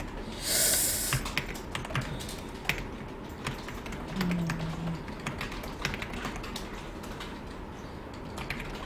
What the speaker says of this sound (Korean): 지금 제가 독검이라는 키보드를 쓰거든요.